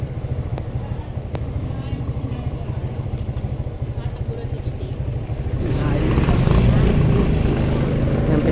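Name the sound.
motorcycle passing a car at a gate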